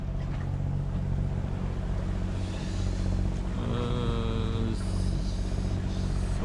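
A sailboat's engine drones steadily at close range on a windless sea, a low continuous hum with faint tonal whines rising above it.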